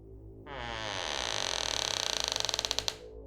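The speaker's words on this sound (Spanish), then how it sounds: "La puerta del closet empezó a abrirse sola." A closet door creaks slowly open on its own, one long loud rising groan that breaks into a fast stuttering rattle of clicks before stopping abruptly, close and alone.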